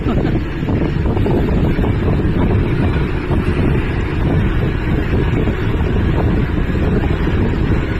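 Strong wind buffets the microphone in a continuous loud roar, gusting without pause, with faint water and motion noise beneath.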